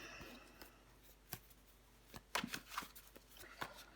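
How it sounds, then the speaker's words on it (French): Tarot cards laid out one by one on a table: soft, sparse flicks and slaps, some quick pairs, close and quiet. "On va recouvrir des cartes pour voir."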